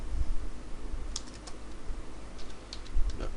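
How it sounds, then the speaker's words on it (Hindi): Keys on a computer keyboard tap lightly in a few short, soft bursts at close range over a low background hum. "इसके अंदर टाइप करिए"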